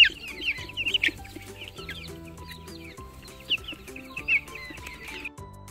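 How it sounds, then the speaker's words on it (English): A hen clucks in quick, uneven bursts, with a few louder squawking clucks over a faint farmyard background and steady low tones. "Hen."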